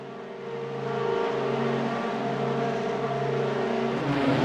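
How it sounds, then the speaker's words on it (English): Race car engines rev together on the starting grid of a dirt-track feature event, a loud sustained roar with steady harmonic drone that swells and builds in intensity. "Revs build."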